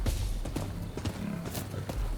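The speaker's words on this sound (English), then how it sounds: "Need my horse. Let's start galloping." A horse galloping in Rise of Ronin: rapid, close hoofbeats thudding in a quick rolling rhythm, with a snort or whinny mixed in over constant low rumble.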